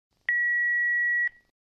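A single steady electronic telephone tone sounds for about a second as a call connects on a radio show, clean and alone before falling silent.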